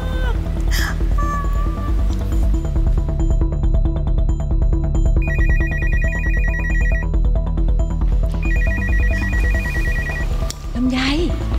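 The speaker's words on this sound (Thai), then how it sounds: "โทรศัพท์ดังแล้วทำไมไม่รับ" A mobile phone ringtone rings on and off through the whole stretch, loud and continuous, with pulsing electronic tones over a busy music bed. Voices talk beneath it.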